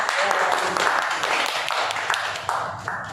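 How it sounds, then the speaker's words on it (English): Warm round of applause at a Toastmasters club meeting, a steady wash of many hands clapping close by across the room, with faint voices mixed in underneath. "Warm round of applause."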